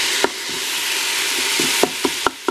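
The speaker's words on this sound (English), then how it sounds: "Sauteing everything up before we put the lid on." Vegetables sauté in a hot pan with a steady, close sizzle, broken by a few sharp clanks of a utensil stirring against the pan.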